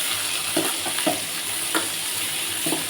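Sliced onion sautéing in a pan with a sprig of curry leaves and four dried red chillies, a steady close sizzle broken by several short scraping stirs of a spatula, no voices.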